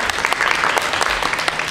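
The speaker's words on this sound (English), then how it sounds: "Let's give her a round of applause." Audience applause at a film festival talk spotlighting Taiwan, steady clapping from a seated crowd filling the short stretch at an even level.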